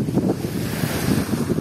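Calm Black Sea waves wash onto a beach shore in soft, rolling surges, mixed with wind buffeting the microphone.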